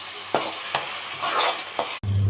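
Onions sizzle in a pan with curry leaves and garlic, a steady frying hiss broken by several sharp stirring scrapes, close and fairly loud with no talk.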